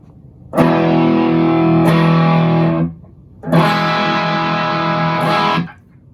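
Two sustained chords of electric guitar through an overdrive pedal, each ringing for a couple of seconds with a warm, crunchy, classic rock tone, separated by a short pause.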